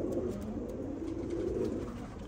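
Pigeons coo softly and continuously, low murmuring calls overlapping at close range without any talking.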